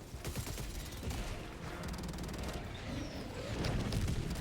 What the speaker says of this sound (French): Un aigle napalm.